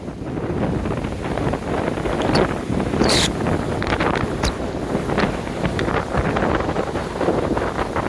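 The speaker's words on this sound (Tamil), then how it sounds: "இதை தள்ளுது காத்து." Strong cyclone wind buffets a motorbike ridden at speed through Cyclone Fengal, a loud continuous roar with gusty rumble on the microphone that never lets up.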